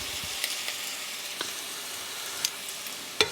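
Two small prawns sizzle as they fry in a pan, a soft, steady crackling hiss broken by a few faint clicks and pops.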